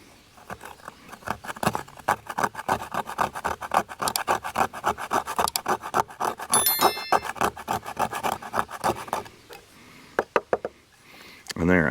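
A Swiss Tech wood rasp shaped like a cheese grater pushed repeatedly down a stick picked up off the ground, shaving off curls in a steady run of close, rhythmic rasping strokes that pause briefly near the end.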